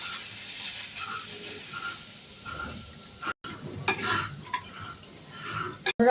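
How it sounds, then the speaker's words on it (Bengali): Vermicelli fries in ghee with a steady soft sizzle, broken by stirring scrapes and a few clinks of a utensil against the pan, close and continuous without speech. "এবার এর ঘিয়ের উপরে সিমুইটা দিয়ে দেবো, দিয়ে ভালো করে ভেজে নেবো।"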